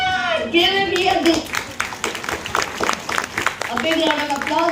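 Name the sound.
seminar audience applause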